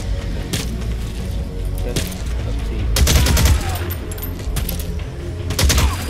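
Heavy gunfire rattles through a Metal Gear Solid 5: The Phantom Pain shootout, loud rapid bursts and booming shots clustered in volleys, with the densest barrages near the middle and end.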